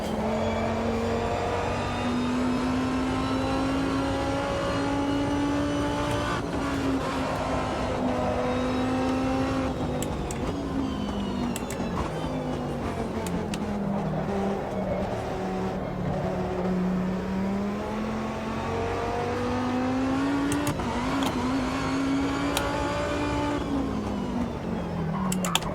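Dodge Viper engine in Gran Turismo, holding a steady loud drone that rises and falls with throttle and gear changes through corners, close and continuous with no talking.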